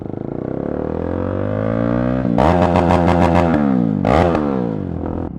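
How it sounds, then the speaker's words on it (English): A motorcycle engine with the clutch pulled in revs hard to the redline, a loud close rising and falling whine with sharp bursts of high revs and a brief dip between, no talking. "I just pulled the clutch in and redlined it"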